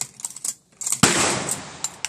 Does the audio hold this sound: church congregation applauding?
no